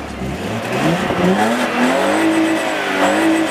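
A car engine with a stock exhaust and no headers revs steadily up and down, its pitch rising and falling in a smooth, fairly quiet drone without any loud exhaust roar.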